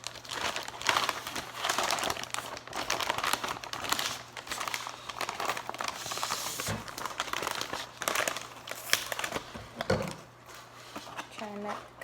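Plastic packaging crinkles and rustles as shipped plants from Ecuador are unwrapped, a steady close-up rustling throughout with a few sharper crackles and knocks, while a person talks over it.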